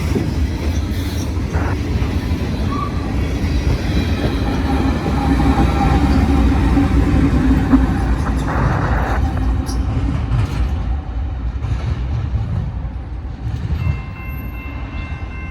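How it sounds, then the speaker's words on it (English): Heavy freight train rolling past with a pusher locomotive at the rear, a sustained loud rumble of wheels and cars with metallic squeals and clanks, swelling midway and easing toward the end, no talking. "That was a heavy train."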